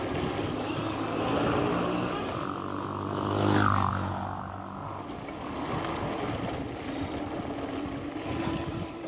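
A motorcycle cruises at about 104 km/h on a highway between Dhaka and Pabna. A steady engine drone and rushing wind noise continue throughout, and a passing vehicle swells louder around the middle.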